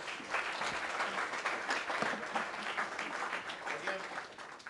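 Audience in an engineering class session applauding a guest speaker, a moderate, steady patter of many hands clapping in a room, fairly consistent throughout with a slight fade at the end.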